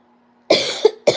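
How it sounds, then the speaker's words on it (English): A person coughs twice, close and loud: a harsh, raspy burst followed by a second sharp cough just after, in an otherwise quiet room. "Oh no, now I'm coughing."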